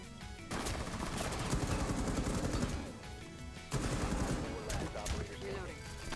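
Rapid gunfire from the video game Rainbow Six Siege rattles almost continuously in loud, dense bursts, with a short lull before another sustained volley.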